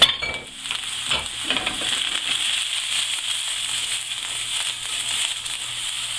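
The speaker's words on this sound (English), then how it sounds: "these are the shiitake mushrooms, and we're just going to add all of that into the pan" Oyster, baby bella and shiitake mushrooms saute in a hot pan, giving a steady close sizzle with a few stirring scrapes near the start and no voices.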